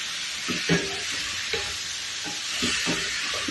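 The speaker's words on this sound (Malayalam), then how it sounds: "മീനിട്ടിട്ടൊന്ന് ഇളക്കി കൂട്ടി കൊടുക്കാം." Fish being stirred into a frying pan while cooking a kaya curry, several soft scraping stirs over a constant hiss of frying, close and clear.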